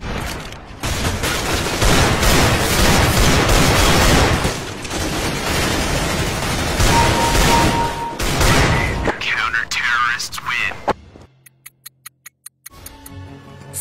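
Loud, dense Desert Eagle pistol gunfire fills the opening seconds, then fades into a handful of sharp, isolated clicks and snaps near the end.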